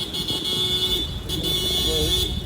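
A car horn blares in a steady, sustained tone over the rumble of street traffic, continuing with only brief dips.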